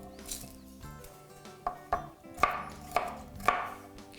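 A knife chops a garlic clove on a cutting board, a series of about six sharp taps speeding up toward the end, close and fairly quiet.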